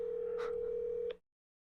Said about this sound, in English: I'm gonna make a call to my mom.